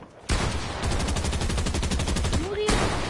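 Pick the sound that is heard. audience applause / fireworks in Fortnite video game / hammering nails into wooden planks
fireworks in Fortnite video game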